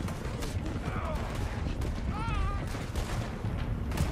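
Gunfire in the Red Dead Redemption video game, dense overlapping shots in a continuous fusillade beneath game music and voices.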